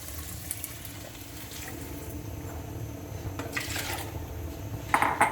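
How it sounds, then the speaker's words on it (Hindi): About a litre of water is poured into a cooking pot of dal and rice for khichdi, a faint, steady splashing stream with a few light clinks of metal near the end. "ये तकरीबन 1 लीटर के करीब पानी इसमें डाला है"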